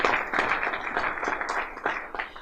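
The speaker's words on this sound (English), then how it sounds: "bring a round of applause for you guys, man." Audience applause fills the room, a dense, steady wash of many hands clapping at close range, loud and continuous with no talk over it.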